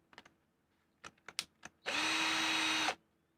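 A COOFiX 12-volt cordless drill, heard after a few sharp clicks and taps as it whirs up to a steady, high motor whine for about a second close by, then stops abruptly.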